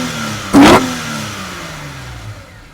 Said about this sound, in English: it wouldn't be a proper sound clip if I didn't give you a little bit of that CSL intake